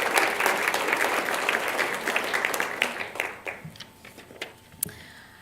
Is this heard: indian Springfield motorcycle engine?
no